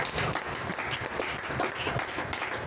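A church congregation applauds in acclaim of the Lord, a dense, sustained burst of clapping from many hands, loud and close, holding steady with no pause.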